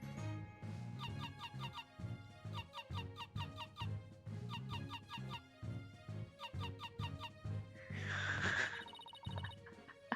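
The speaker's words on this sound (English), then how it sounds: "Oh, that's the parrot?" A parrot in Ace Attorney Dual Destinies squawks in a short, bright burst near the end of a looping, tuneful game melody.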